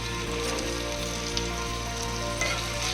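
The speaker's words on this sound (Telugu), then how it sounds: "కొంచెం 2 నిమిషాలు వేగనివ్వాలి, పచ్చివాసన పోతుంది." Chili powder, salt, ginger garlic paste, coriander powder and chaat masala sizzle and fry together in a pan for paneer butter masala: a steady, close crackling hiss with faint scraping now and then, no voices.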